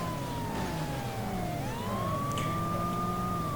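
Police car siren in the PS1 game World's Scariest Police Chases, a continuous wailing tone that rises and falls steadily over engine rumble, loud and unbroken throughout.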